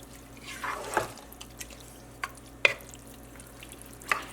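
Rice being stirred with onions, spices and ghee gives soft, quiet scraping and stirring strokes, with a few sharp clicks of the utensil against the pot and a faint sizzle underneath.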